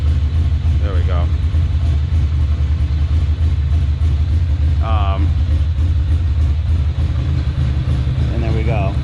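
A Ducati Monster motorcycle engine idles steadily right after starting, a continuous low rumble running throughout while someone talks over it at intervals.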